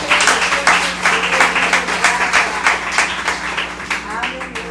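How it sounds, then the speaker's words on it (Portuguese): A church congregation claps loudly in a fast, steady rhythm for several seconds, many hands together in a lively, even beat with a low sustained tone underneath. "Dê uma salva de palmas ao Senhor."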